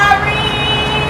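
Voice imitating a siren, a sustained wailing tone held loud and close for a moment, sung rather than mechanical.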